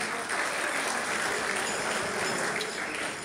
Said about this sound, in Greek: έναν πολύ θερμό χειροκρότημα από όλους